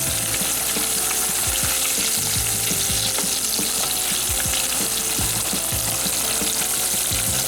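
A blooming onion deep-frying in hot oil, restaurant style, producing a loud, continuous, dense bubbling sizzle with occasional crackles, close and steady with no talk.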